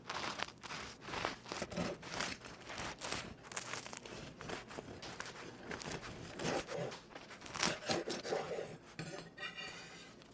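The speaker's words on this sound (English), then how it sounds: "So I'm going to cut into this and we'll have a look at the texture" A knife saws through a crisp-crusted focaccia loaf in repeated rasping strokes that crackle and rustle close by, steady and fairly quiet.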